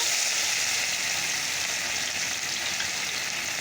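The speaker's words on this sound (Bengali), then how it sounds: "কড়াইটা বসিয়ে দিয়েছি তেলও দিয়ে দিয়েছি তেলটা গরমও হয়ে গেছে তো চলো আগে কি বড় মাছটা ভেজে নিই" Rohu fish fries in hot oil in a wok, giving a steady, dense sizzling hiss that stays loud and even throughout with no voices.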